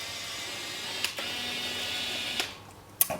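A Nikon 105mm f2.8 Micro lens autofocuses with a quiet whirring motor sound, marked by short clicks at the start and end of each focus run, heard twice close up in a quiet room.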